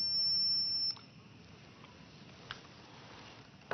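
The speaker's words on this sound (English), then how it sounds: "We can use a circuit tester to show that it conducts electricity." A circuit tester gives a single steady high-pitched beep for just under a second, then cuts off, leaving faint background hiss with a couple of small ticks and no talking.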